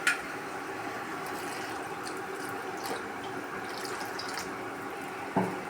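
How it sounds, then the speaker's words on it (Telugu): Water poured from a vessel into a sweet potato and prawn curry mixture in a pan makes a soft, steady, faint wash of liquid with a small clink near the end. "ఇలా కలుపుకున్నాక ఇందులో వాటర్ యాడ్ చేసుకోవాలండి."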